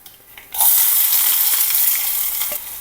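Small shallots hit hot oil already popping with mustard seeds and burst into a loud, sudden sizzle that holds steady for a couple of seconds.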